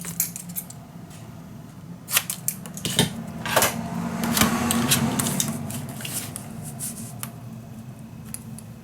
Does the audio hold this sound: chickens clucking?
no